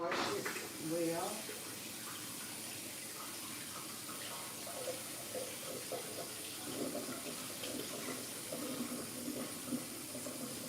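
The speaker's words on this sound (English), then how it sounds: "Let me wash this pepper and lay it on top." A pepper is rinsed under a kitchen tap, the running water splashing faintly and unevenly for several seconds while a person talks over it.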